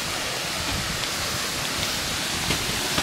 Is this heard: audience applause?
no